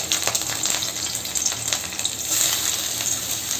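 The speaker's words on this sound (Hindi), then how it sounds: "तो बढ़िया से फ्राई करेंगे।" Green chilies hiss and crackle in a little oil in a pan with fried chickpeas, a loud, dense, continuous sizzle broken by quick popping bursts, heard up close.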